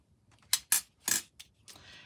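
Paper is trimmed with scissors for a Christmas journal page. About five sharp, crisp snips come close and distinct at uneven intervals, with a softer rustle trailing at the end.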